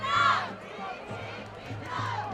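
High school football cheerleaders chant from across the field during a home game, their words blurred by distance and crowd noise, rising in a loud burst at the start and again near the end.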